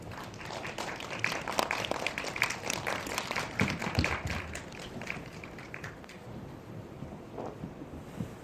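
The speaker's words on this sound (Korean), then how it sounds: "박수로 모셔볼까요?" An audience at an independent film festival screening in Seoul applauds as short-film directors and actors are welcomed onto the stage, with steady, dense clapping that fills the room and tapers off slightly near the end.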